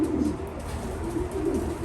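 Pigeons coo inside a loft, a soft throaty warbling that swells and fades in repeated low phrases, close by and continuous, with no talking.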